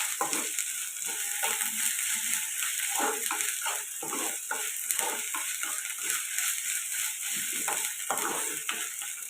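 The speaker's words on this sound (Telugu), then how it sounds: "అల్లం వెల్లుల్లి పేస్ట్ కూడా ఫ్రై అయిందండి" Ginger garlic paste with onions being stir-fried in a pan for an egg curry, a steady sizzle with frequent scraping stirs and soft knocks of the spatula, close and continuous with no talk.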